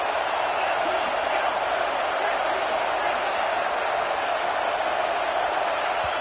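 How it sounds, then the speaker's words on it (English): Dense, loud roar of a college football stadium crowd at a Florida vs Georgia Tech game, a steady wall of noise holding for the full stretch without letup. "with this place rocking, the crowd forces a false start"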